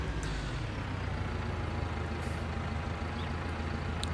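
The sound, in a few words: Stara ST Max 105 tractor pulling a header trailer, Farming Simulator 19 video game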